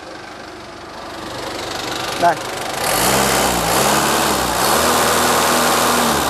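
Toyota 1.5-ton forklift engine, idling and then revved to a steady higher pitch with harmonic wobbles, loud and close, with a brief spoken word just before the rev.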